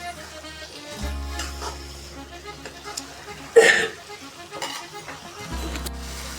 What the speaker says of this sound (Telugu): ఇప్పుడైతే వన్ టైం కలుపుతున్నాను